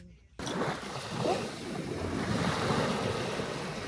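Seaside waves at a beach in Niigata, Japan, a steady loud wash of surf mixed with wind buffeting the microphone, starting abruptly after a short quiet moment and continuing without talk.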